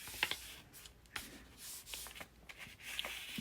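Paper is folded by hand into a scripture pocket, with soft, close crinkles, creases and light sliding rubs coming in short, quiet bursts.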